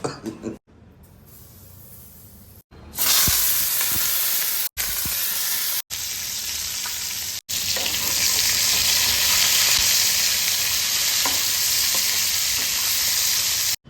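Food fries in hot oil with dried red chillies while prawn malai curry is prepared, a loud, dense, crackling sizzle heard close up, broken by several abrupt cuts before settling into a long steady stretch.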